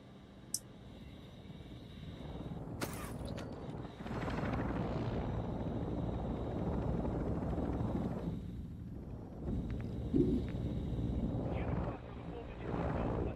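An extraction helicopter in the video game Warzone DMZ arrives with a dense, rumbling rotor roar that swells and stays loud and close, with voices faintly underneath.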